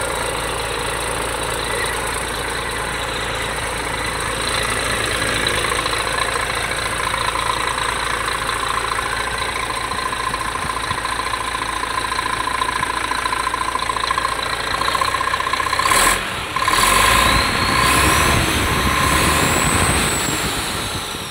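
A Weichai diesel engine runs with a steady, loud mechanical drone, its pitch climbing slightly as the revs are raised, with a brief clunk and shift in tone near the end.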